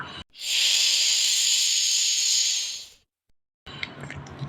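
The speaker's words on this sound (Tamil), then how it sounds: "கேட்டிங்களா இதுதான் பாம்பு சீர்ற சத்தம்" A snake hisses in a long, loud, steady breathy rush lasting over two seconds, ending abruptly, with a short quiet gap and some softer rustling after.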